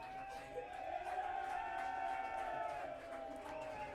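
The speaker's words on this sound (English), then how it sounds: "And he's on to a big cheer from the away fans" Away supporters at a non-league football match between Glossop North End and Marine, sending up a distant, steady crowd roar of cheering that swells and holds for several seconds.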